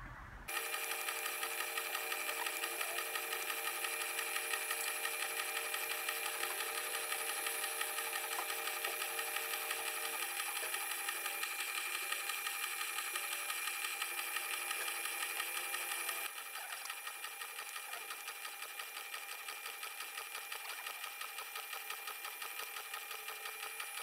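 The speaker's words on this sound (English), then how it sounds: "So now we can power on the machine, which will drive the head." A metal shaper machine drives its head for involute gear cutting, giving a steady mechanical hum with fine rhythmic ticking that runs the whole time and drops slightly in level partway through.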